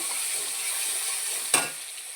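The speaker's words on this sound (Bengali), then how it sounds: "এবার আমি আলু কাটাটা সুন্দর করে লাল লাল করে ভেজে নেব" Cut potato pieces fry in hot oil with a steady, soft sizzle, broken once by a sharp stir or scrape of the pan partway through.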